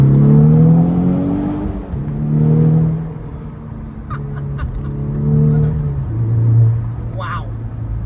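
A downpipe-equipped car accelerates hard, its engine droning and climbing in pitch through repeated gear pulls, loud and close from inside the cabin, with a brief sharp chirp near the end.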